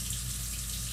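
Water runs steadily from a household faucet, a constant close hiss and splash with no change over the short stretch and no talking.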